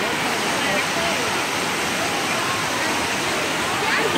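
Looking Glass Falls in North Carolina roars as a steady, dense rush of falling water, heard up close and continuous throughout with no pauses.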